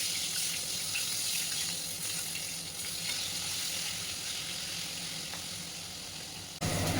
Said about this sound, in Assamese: আৰু তাৰপাছতে ভাজি গৈছোঁ।